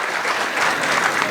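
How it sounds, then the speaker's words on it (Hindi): A crowd at a poetry gathering applauds the convener, dense continuous clapping, loud and close, with no voice over it. "ताली वाली बजा दो इनके लिए।"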